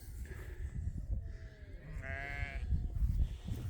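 Sheep bleat on a farm at hay-feeding time, a couple of wavering calls rising over steady outdoor background noise, moderately close, with no talking over them.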